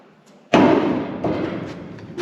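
A Global West weld-on subframe connector being knocked into place on a 1964-1966 Mustang convertible frame: one sharp, loud metallic thud close by, followed by a brief ringing decay and a faint second tap.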